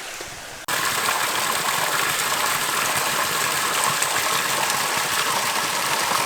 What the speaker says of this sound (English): Let's go and explore a waterfall. I can see one.